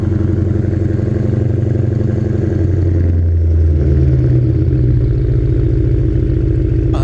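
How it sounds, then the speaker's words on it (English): A BMW twin-turbo V8 runs steadily at close range with a deep, rhythmic rumble and mechanical clatter, the pitch shifting slightly midway as the revs change. "the goal is that hopefully we'll be able to hear the turbos a little bit louder"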